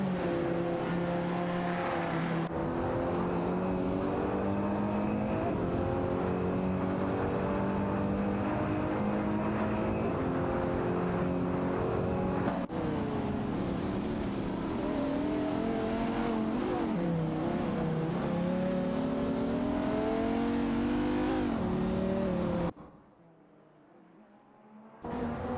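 Simulated race cars, Porsche 911-991 Turbo models, whine steadily as engines hold high revs, pitch rising and falling through gear changes, loud and continuous, with a brief drop to near silence near the end.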